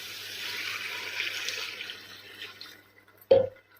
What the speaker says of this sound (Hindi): हम इसमें ऐड करेंगे पानी।